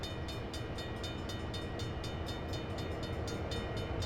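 A CSX heavy-haul freight train in Train Sim World rolls into a station, with a loud, continuous rumble, a sustained horn-like tone and a fast, regular clatter of wheels over rail joints.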